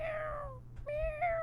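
A man imitates a cat meowing in an office, giving two drawn-out, close and fairly quiet meows with a short pause between them.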